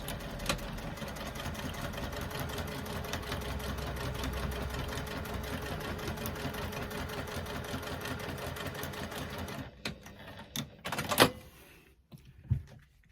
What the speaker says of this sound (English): stitching using an 3/8 of an inch seam allowance